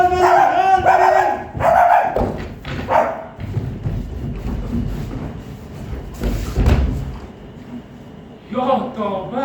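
Loud barking, like dogs, bursts out in a student theatre stage performance, several sharp barks in clusters with thumps between them and voices mixed in.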